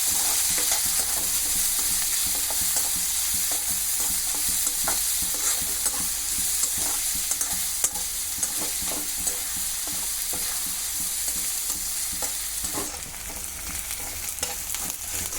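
Onions and green chillies fry in a pan with a steady, dense sizzle, broken by frequent scraping stir strokes close by, for an amaranthus liver curry. No one speaks.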